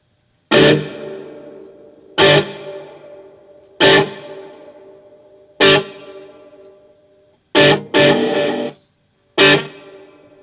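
Distorted electric guitar lead through a Yamaha THR amp plays six or seven separate struck notes or chords, each ringing out into a long, washy reverb tail between hits.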